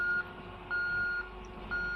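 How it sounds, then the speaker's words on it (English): A road roller's reversing alarm beeps at a steady interval, three long tones over a low engine rumble, moderately distant. "The roller would beep in reverse"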